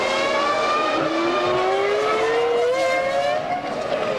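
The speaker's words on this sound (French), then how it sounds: "Alors Jacques Villeneuve vient de passer devant nous." A 2000 Formula 1 car sweeping past during Canadian Grand Prix qualifying, its high-pitched engine whine rising steadily in pitch as it nears, loud and continuous for about four seconds with no talk.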